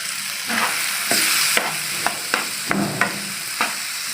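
Paneer biryani spices with salt and turmeric stir-fried in a pan: a steady close sizzle broken by a series of sharp spatula scrapes and knocks at irregular intervals, with no voices.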